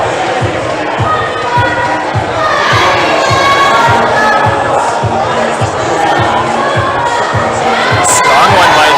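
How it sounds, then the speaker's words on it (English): A loud, lively crowd cheers and shouts at a provincial top rope climbing competition, with rhythmic thumping, clapping or stomping under the roar and voices calling out throughout. "The crowd loves it."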